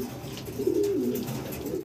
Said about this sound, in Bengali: দর্শক ভিডিও স্ক্রিনে আমরা দেখতেছি এক জোড়া স্টেসার কবুতর